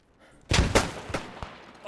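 Cannon fire in the WWI shooter Beyond the Wire: a heavy boom lands at once, followed by a rolling series of blasts and sharp cracks fading out over a couple of seconds, with no talk.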